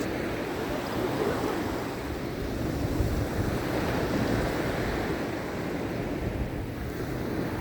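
Rough sea waves breaking on a beach, a continuous broadband roar of surf with swelling crashes, mixed with gusting wind buffeting the microphone.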